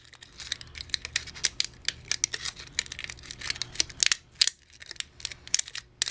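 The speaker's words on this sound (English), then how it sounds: "And then you're going to fold all these down." Paper strips cut with scissors being folded down by hand for a candy gift tag, giving a close series of sharp, quick crinkling and crisp paper snaps in an irregular rhythm, with no talking.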